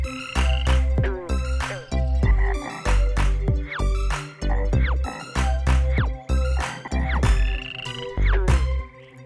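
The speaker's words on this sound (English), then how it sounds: "A green frog rivets real loud" A loud, rhythmic green frog croaking, repeated in quick bursts with short pauses between them, sung over an accompanying nursery rhyme melody.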